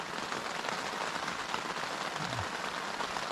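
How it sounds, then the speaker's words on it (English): Rain falling steadily around a wild camp in the Cheviots, Northumberland, a constant soft patter on surfaces with no voices, even and unbroken throughout. "Watching the rain."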